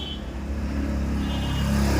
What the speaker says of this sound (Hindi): अभी मैं मेन रोड में हूँ और इस वजह से गाड़ियों का बहुत शोर शराबा सुनने को मिल रहा है।